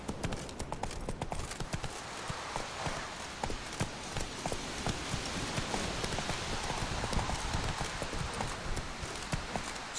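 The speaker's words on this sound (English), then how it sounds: "Whoa there, Roach." Horse hooves trot steadily in The Witcher 3 video game, a continuous rapid clip-clop under a dense, rain-like wash of background noise, close and fairly loud throughout.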